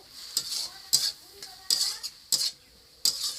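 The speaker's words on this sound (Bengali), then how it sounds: "ভালো করে নেড়ে নিতে হবে" A spoon stirs salt and turmeric in a cooking pot, sharp scraping clinks coming in five or six regular strokes over a faint sizzle, close and fairly clear with no voices.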